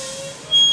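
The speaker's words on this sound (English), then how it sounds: "It's a visual alarm, and it's an audible alarm." In a Class A truck cab during a pre-trip inspection, the low air pressure warning alarm switches on halfway through as a steady, piercing high-pitched tone. It sounds loud and close over a faint engine hum.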